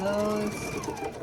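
A sewing machine stitches quilt blocks chained one after another, its rapid mechanical whir close and steady and then slowing, while a voice talks over it.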